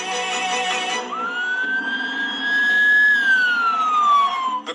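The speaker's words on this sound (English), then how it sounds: "The calm of Sunday morning in rural Nova Scotia pierced by sirens." An emergency vehicle siren wails on a Sunday morning in rural Nova Scotia during a police chase, one loud, drawn-out tone rising then falling over engine noise.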